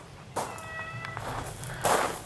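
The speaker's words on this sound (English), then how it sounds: "There's Tiki the cat." Pet cat meowing indoors, one clear drawn-out meow with a short trailing note, then a brief rustle or step, over quiet room noise.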